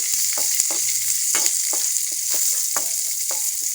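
Mustard seeds, curry leaves, chilli, pandan leaf and salt frying in a pan for a mal nelli fish dish, with a steady close hiss and sizzle broken by repeated scraping, clicking stirs of a spoon against the pan.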